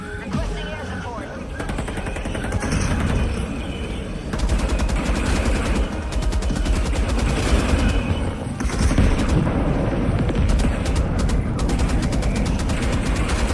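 Dense gunfire and explosions from the video game Helldivers 2, with continuous loud automatic weapon bursts and booms layered through an ongoing battle while a player talks over the top.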